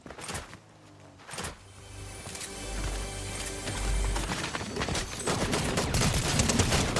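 Submachine gun fire in the video game Unreal, loud dense bursts of rapid shots over a busy game soundscape full of mechanical clatter, with no speech.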